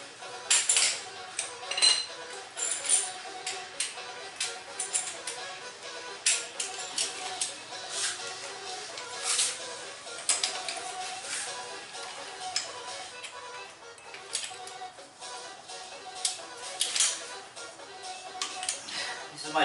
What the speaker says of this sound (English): This is my torque wrench